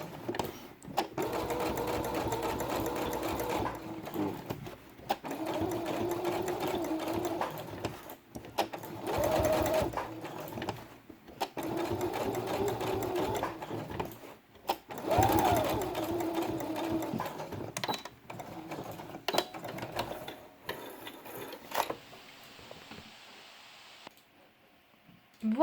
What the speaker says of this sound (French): On plante l'aiguille, on repasse sur cette couture et on vient terminer la couture